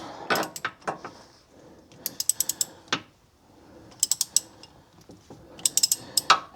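A ratchet tool clicks in quick short bursts while loosening the differential plug on a 2001 Dodge Viper, the sharp clicks coming in separated clusters between quieter metallic handling noises, close up.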